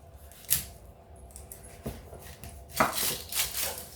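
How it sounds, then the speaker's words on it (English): Scattered knife strokes as vegetables are chopped on a board, a few sharp cuts spaced irregularly, then a quicker cluster of chops toward the end, fairly quiet. "So I'm just going to start chopping all my veggies and getting them all up."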